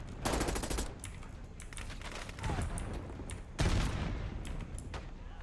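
Video game firefight with a frag grenade thrown: bursts of rapid automatic gunfire and scattered shots, with a sharper loud blast near the middle, continuous and fairly close throughout.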